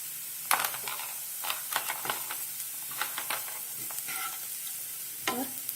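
Onions frying in a pan with asafoetida and turmeric, a steady soft sizzle broken by scattered scraping stirs and clinks of a utensil, moderately close with no voices.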